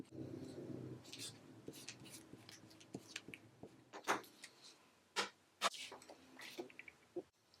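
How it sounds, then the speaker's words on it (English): Hand marking of a sleeve pattern piece on fabric, tracing with a marker or chalk: scattered short scratchy strokes and taps, close and fairly quiet, with a low hum early on and no talking. "So we're just gonna continue and mark out the whole pattern piece here."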